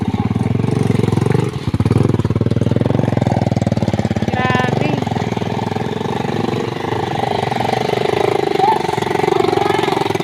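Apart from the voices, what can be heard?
motorcycle engine straining on a very muddy road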